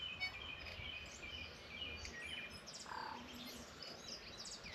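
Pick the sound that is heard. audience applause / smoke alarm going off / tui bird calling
tui bird calling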